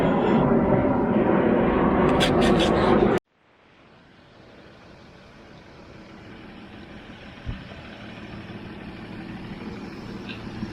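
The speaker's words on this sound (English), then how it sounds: "the plane's flying in right over us" A low-flying airplane passes right overhead, a loud broadband engine roar that cuts off abruptly at about three seconds and then gives way to a softer, steadily building rumble as the plane continues past.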